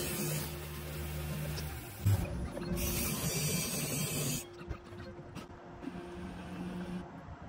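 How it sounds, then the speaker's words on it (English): A lens edger machine mills and cuts a pink prescription glasses lens, giving a steady mechanical whir and hiss with a faint hum, changing pitch partway through as the cutting stage shifts. "in goes the lens for the cutting process. This lens is going to get milled and polished."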